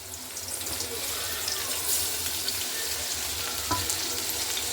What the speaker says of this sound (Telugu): టమాటో అయితే బాగా వేగిపోయింది